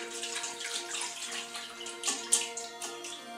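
Raw mussels are stirred by hand in a bowl of water, giving soft sloshing and light splashes with the occasional sharper clink of shells, up close and with no voices.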